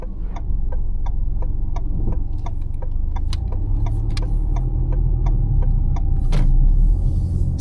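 Cabin of a 2025 Suzuki Swift GLX with 1.2-litre engine and CVT on the move, steady low road rumble and engine hum with a regular ticking, likely an indicator, clicking throughout.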